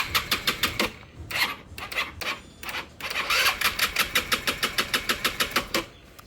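ER150N motorcycle engine that won't start, starter cranking in fast rhythmic bursts with short pauses between attempts, close and loud, the engine never catching.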